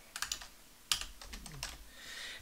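Quick typing on a computer keyboard, a handful of close, crisp key clicks in a short irregular run with a louder tap partway through.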